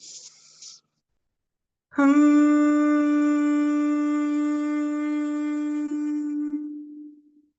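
At a breathing workshop, a group hums one sustained note together after a short pause, clear and steady for several seconds before fading out.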